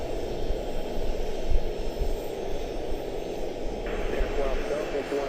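Jet aircraft engines at Charlotte-Douglas airport produce a loud, steady, broad roar that persists throughout with no break, heard outdoors from the airfield.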